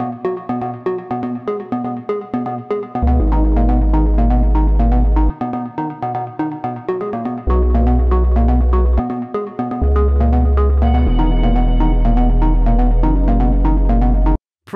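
A Serum synth pluck recreating a track plays a bright, rhythmic melodic pattern of short notes, joined by a deep sustained bass and layered chords, loud and without voices.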